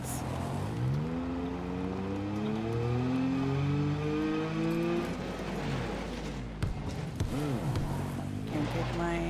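A vehicle engine in Borderlands 3 hums and revs, its pitch rising and falling in smooth sweeps and then swooping up and down sharply near the end, loud and close, with a bump partway through.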